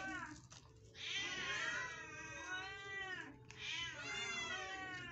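Several cats meowing noisily outside, jealous over cat food, with loud, drawn-out rising and falling meows in repeated overlapping bursts, close by and without talk.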